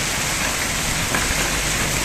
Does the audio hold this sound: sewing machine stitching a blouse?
no